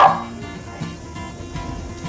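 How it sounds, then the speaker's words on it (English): A six-week-old Westie poo puppy (Westie and poodle mix) gives a sharp bark followed by softer yips and whimpers, close and fairly loud. "Darby here is a Westie poo"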